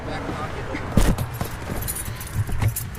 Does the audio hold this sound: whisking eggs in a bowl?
no